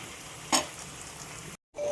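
Cumin seeds and bay leaf with garam masala crackle and sizzle in hot oil, a close, steady fry with one brief louder spatter before the sound cuts out for a moment.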